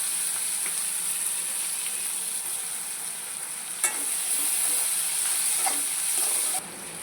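Onions dropped into hot oil seasoned with cumin, bay leaf and dried red chillies give a steady, even sizzle with a few faint clinks, heard close with no talk.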